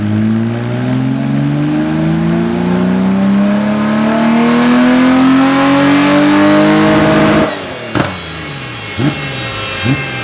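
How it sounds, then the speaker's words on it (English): Porsche 964 C2 fitted with individual throttle bodies and an upgraded exhaust revs loudly and climbs steadily in pitch for several seconds, cuts off sharply, then gives a few short blips with a crackling exhaust. "show you what the throttle body sound like and what the exhaust systems sound like"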